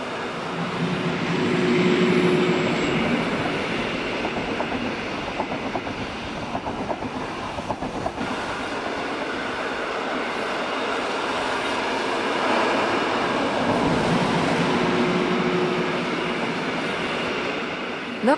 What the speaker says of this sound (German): Lok 622 führt einen Albula-Güterzug ins Engadin, mit dabei sind auch Schotterwagen, Langschienen und Kleineisen auf Flachwagen für den Gleisbau.